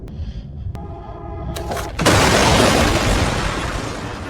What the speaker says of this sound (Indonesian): seketika terjadi ledakan besar